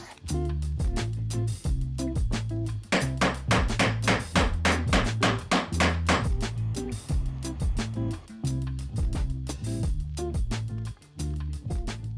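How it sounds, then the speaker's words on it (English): Steady, rapid hammering of metal stock on a bench while making tube, sharp ringing blows in quick rhythm with short pauses, loud and close throughout. "this is basically going to be a bunch of hammering and annealing back and forth"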